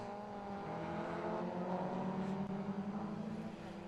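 Club race cars, Renault Clios and Mazda MX-5s, run at Snetterton circuit, making a distant, faint, steady engine drone with droning tones that hold throughout.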